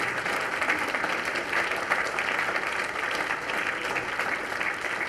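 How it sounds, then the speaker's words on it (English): At a Memorial Day ceremony, an outdoor crowd gives a long, even round of clapping that stays steady and moderately loud for several seconds. "Let's give them all a big round of applause."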